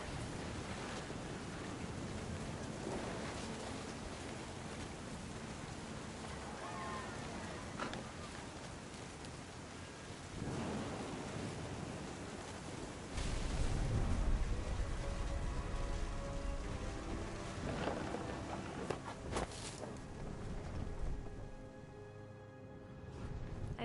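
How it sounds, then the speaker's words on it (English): Steady rain hisses through a thunderstorm in the game What Remains of Edith Finch, a dense, even wash of noise that swells louder midway, with faint voice-like sounds beneath it. "The thunder sounded much too close and full of angry power."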